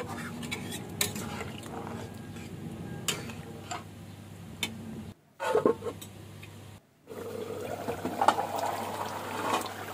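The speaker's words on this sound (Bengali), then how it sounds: "এখানে প্রায় আমি গরম জল দিয়ে দিচ্ছি" Hot water pours into a pot of Bengali-style mutton curry, a close liquid splash mixed with scattered ticks and clinks of utensils against the pot, broken by two brief silent gaps.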